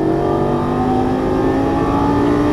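A Lamborghini Gallardo LP550-2 accelerates on a race track, its engine a loud, continuous, steadily climbing snarl with strong harmonics, heard alone.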